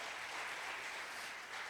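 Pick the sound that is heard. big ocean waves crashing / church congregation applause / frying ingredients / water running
church congregation applause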